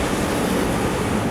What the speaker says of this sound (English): Oh no, that's waves.